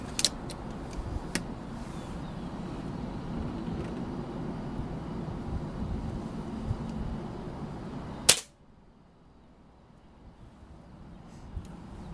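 A Beeman air rifle fires Wasp pellets at targets. A few sharp cracks stand out over steady background rumble, and one loud shot is followed by near silence with a faint click later.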